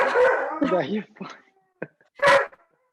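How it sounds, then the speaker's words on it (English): A dog gives a few short barks and whimpers in the background behind a person speaking in an indoor home setting, with one louder yelp near the end. "The dog in the background."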